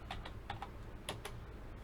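Typing on a computer keyboard while working in Excel: a handful of light, uneven key clicks close by over a faint room hum, with no talking.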